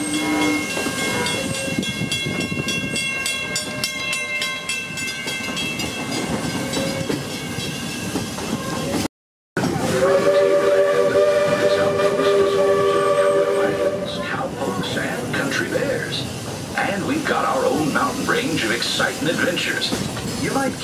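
Disney Magic Kingdom railroad train running, with a steady rolling rumble, clanking, and a loud steam whistle sounding in bursts, heard alongside a narrator's voice.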